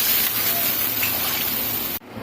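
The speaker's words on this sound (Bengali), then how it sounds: "পানিটা দিয়েছি" Water poured into a pan of frying chili paste and ginger-garlic paste sets off a loud, dense hissing burst that stops abruptly after about two seconds.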